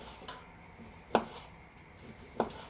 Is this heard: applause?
no